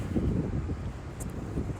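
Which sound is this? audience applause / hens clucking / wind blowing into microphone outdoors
wind blowing into microphone outdoors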